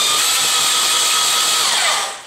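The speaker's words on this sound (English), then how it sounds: "So if I put my drill in reverse, it turns in a way that it pushes the liquid down." A power drill running steadily in reverse while mixing liquid for waterproofing a flat roof slab, a loud, close, continuous whine that slows and fades at the end.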